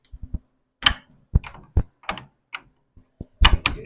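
Hand-cranked 1915 Ford Model T stationary engine giving a series of sharp, separate clunks and knocks at an uneven rhythm, close and fairly loud.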